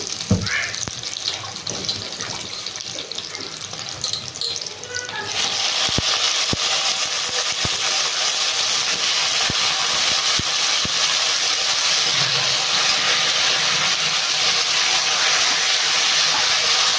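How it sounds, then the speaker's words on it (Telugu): Brinjal pieces drop into hot oil in a pan with curry leaves and spices, and a loud, steady sizzle of frying rises sharply and holds continuously, with quieter cooking sounds before it starts. "ఇప్పుడు మనం వంకాయలు వేస్తున్నాము"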